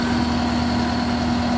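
A skid steer engine idles steadily nearby, a constant low droning rumble with an even, unbroken tone and no change in pitch.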